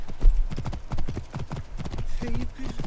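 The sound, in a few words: horse hooves clip-clopping in Assassin's Creed Origins video game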